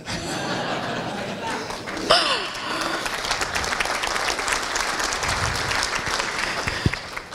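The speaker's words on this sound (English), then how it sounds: "Thank you for that clap." An audience at a Rotary International presidents' conference claps steadily for a speaker, a dense sustained applause with a few chuckles and a brief sharp sound mixed in.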